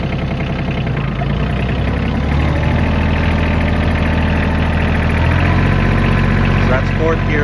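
A Kioti CK27 compact tractor engine runs steadily in fourth gear low, a loud, close, continuous diesel drone with a rhythmic knocking pulse that rises slightly in pitch partway through.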